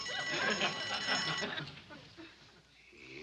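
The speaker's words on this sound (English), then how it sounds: "tinkling her little bell" A small hand bell tinkles in quick bright bursts through the first second and a half, then fades, with faint background noise remaining.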